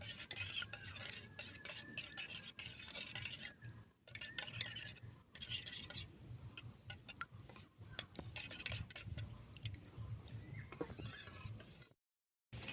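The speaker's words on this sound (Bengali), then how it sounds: "লঙ্কার গুঁড়ো গোলমরিচের গুঁড়ো ভালোভাবে আমি ফেটিয়ে নেব" Eggs beaten with turmeric, chili powder and black pepper powder in a bowl, a steady rapid scraping and clinking of the whisk against the dish running continuously, close and fairly loud, with a few brief pauses and no talk.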